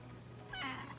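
A cat gives a single short meow, fairly faint, over a low steady background hum indoors.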